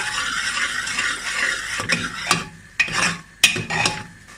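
Tomato puree cooking in a pan over a medium flame, a soft steady sizzle broken by a few sharp scrapes and clanks of a utensil against the pan.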